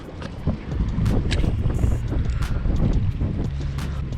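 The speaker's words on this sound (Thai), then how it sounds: "บอกเลยว่าลมแรงมากทุกคน" Strong wind buffets the microphone in a steady, loud roar on a boat at sea during a fishing trip, with rough water beneath and no speech.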